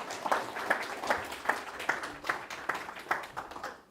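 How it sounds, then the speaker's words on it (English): Audience at a live community gathering breaks into applause, a steady run of many hands clapping with rhythmic peaks, moderately loud and unaccompanied by speech. "Let's give her a round of applause."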